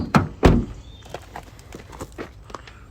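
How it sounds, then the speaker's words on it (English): A 2017 Toyota Hilux 2.4 D-4D Invincible X pickup door thuds shut twice in quick succession, followed by quieter light clicks and rustling outdoors. "Just shut that door"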